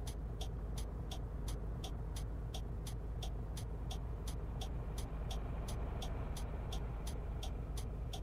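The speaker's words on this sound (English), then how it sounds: "It's a bloody loud indicator, isn't it?" A coach's turn indicator ticks loudly and steadily, about two clicks per second, over a constant low engine rumble inside the cab in Fernbus Coach Simulator, featuring VDL FHD2 and Scania Touring coaches.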